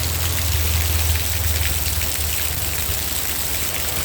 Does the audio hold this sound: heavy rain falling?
yes